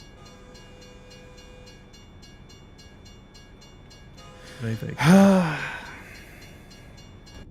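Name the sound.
trains passing in American Truck Simulator video game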